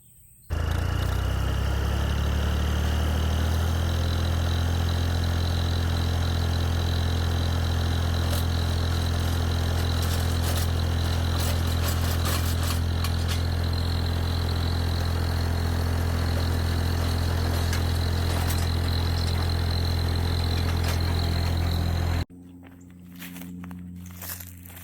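A tractor engine drives a post hole auger, running steadily and loudly at a low, even drone for most of the stretch before cutting off abruptly near the end, with no talking over it.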